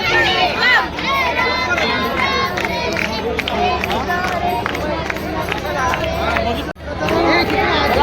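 A dense crowd mills and chatters at a Ganesh immersion ghat, with continuous babble and scattered nearby voices through the whole stretch and a brief drop in the noise near the end.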